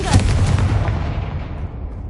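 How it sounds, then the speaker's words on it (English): A Confringo explosive spell blasts in a video game with a loud booming explosion, like artillery fire, that rumbles and slowly fades away. "Confringo"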